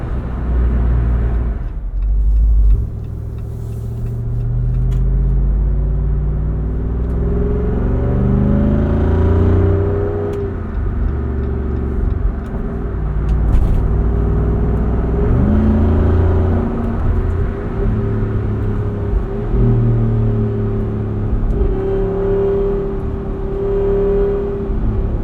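A 2024 Jeep Wrangler Rubicon 392 V8 engine rumbles and rises in pitch several times as it revs, its exhaust swelling and falling back, with no voices.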